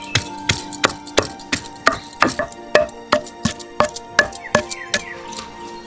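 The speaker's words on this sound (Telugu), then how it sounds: "అల్లం వెల్లుల్లి ముద్ద నూరుకుందాం" Ginger and garlic, 50 grams of each, are pounded into paste with a steady series of sharp, hard knocks, close and loud, repeating roughly twice a second with faint ringing between strikes.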